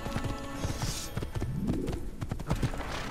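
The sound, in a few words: horse hooves galloping, Assassin's Creed video game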